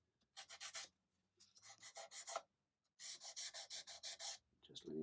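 Dry, rhythmic rubbing of sandpaper on guitar frets with light pressure, in several bursts of short strokes, close up, with brief pauses between passes and no talking.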